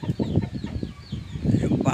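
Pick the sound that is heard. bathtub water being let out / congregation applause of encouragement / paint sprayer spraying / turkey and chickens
turkey and chickens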